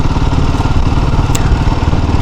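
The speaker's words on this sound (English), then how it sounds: "Let me shift to the fourth gear." Royal Enfield Himalayan 452 motorcycle engine running steadily at about 35 km/h as the rider shifts into fourth gear, a close, continuous mid-pitched drone with dense rhythmic pulsing and a brief click partway through.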